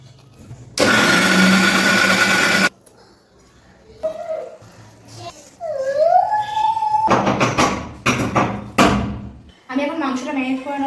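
A kitchen mixer grinder grinds peeled ginger and garlic into paste in loud, roaring bursts, one long run and then several shorter pulses, with someone talking in the pauses between them.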